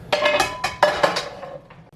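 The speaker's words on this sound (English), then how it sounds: "and give it a stir." Pasta being stirred in a pot: a spoon knocks against the cookware in a handful of bright, separate clinks and scrapes, fairly close and clear, with quiet gaps between strokes and no voices.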